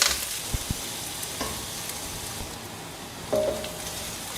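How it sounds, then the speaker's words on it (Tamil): Shallots and curry leaves sauté in a pan, a soft, even sizzling hiss with a few light taps and scrapes of stirring, fairly faint and without talk. "நல்லா வதக்கலாங்க, பச்சை வாசனை போகணும்"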